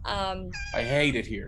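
A person playfully imitates a kitten's meow with a short, high mewing voice. The sound is brief and close, and speech runs around it.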